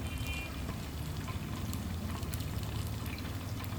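Extra virgin olive oil poured into a dish of fish and chips with calamansi and parsley, a soft continuous liquid trickle over low kitchen background noise, steady throughout.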